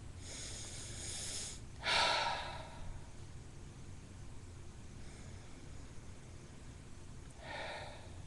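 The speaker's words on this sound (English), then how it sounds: "let's keep that in mind as we take a couple deep breaths" A few deep cleansing breaths drawn and released during a spoken vespers prayer for peace: three soft, airy rushes of breath, the middle one louder and fuller, separated by quiet pauses.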